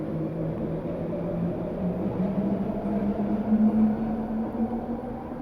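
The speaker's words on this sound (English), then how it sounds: "sorry, we still got the trains, unfortunately, Grace." A train rumbles past at a steady low roar, its droning hum rising slightly in pitch as it goes by, with no voices.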